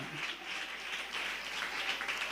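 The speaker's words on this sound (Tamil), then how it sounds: "நல்ல கைத்தட்டி ஆண்டவருக்கு நன்றி சொல்லுவோமா?" A church congregation claps hands in thanks during a Tamil sermon, a dense, fairly faint patter of many hands that holds steady for a couple of seconds with no speech over it.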